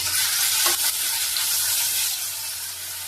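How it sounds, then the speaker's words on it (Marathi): Tomatoes drop into onions already frying for a chicken curry, giving a steady loud sizzle with a brief burst of hissing splatter as they hit the hot oil, then continuous frying under light stirring. "आता याच्यामध्ये आपण टोमॅटो घालणार आहे।"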